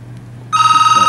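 A telephone starts ringing partway through, a steady electronic ring that comes in loud and close after a low hum, heard during a Buddhist dharma radio broadcast from a Thai temple.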